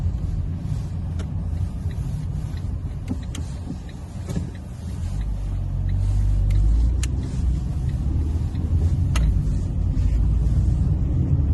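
2011 Ford KA 1.2 Studio car driving, steady low engine and road rumble from inside the cabin, swelling as speed builds, with faint clicks and knocks over the drone.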